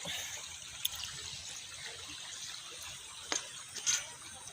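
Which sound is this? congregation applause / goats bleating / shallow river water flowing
shallow river water flowing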